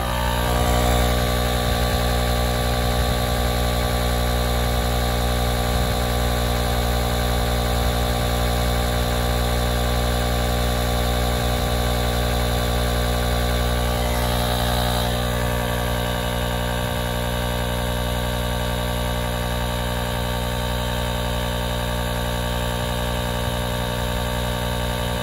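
A truck engine idles in a steady, loud drone with a constant low hum and tonal whine, unbroken for the whole stretch with no talking.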